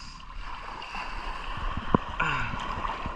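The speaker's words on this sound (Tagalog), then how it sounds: "Okay lang yung mga ganyan-ganyang alon guys, huwag lang yung magbasag." Small fishing boat rocking on moderate sea swells, with a steady broadband wash of water and wind, brief slaps against the hull and a faint creak midway, close and continuous.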